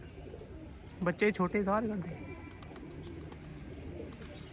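Pigeons coo from a loft in a quick, close run of throaty calls, with a faint murmur of speech and soft background noise around them.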